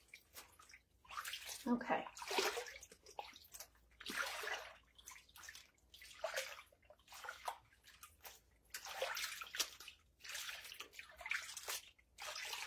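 A vintage wedding gown is sloshed and swished by hand in a tub of water, with repeated bursts of splashing and dripping in an uneven rhythm, close by, under occasional brief talk.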